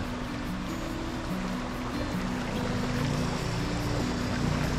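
A cruise boat arriving on the Savières canal between Conjux and Chanaz in Savoie, heard as a steady low engine hum and water wash that swells slightly toward the end, with no voices.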